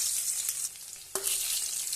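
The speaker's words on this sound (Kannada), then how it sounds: "ಕಾದಿರೋ ಎಣ್ಣೆಲಿ ಚಕ್ಕೆ ಲವಂಗನ ಹಾಕೋಣ." Cinnamon, cloves and finely chopped onion fry in hot oil with a steady, bright sizzle, with a sharp crackle and hiss burst about halfway through as more goes into the pan; no one speaks.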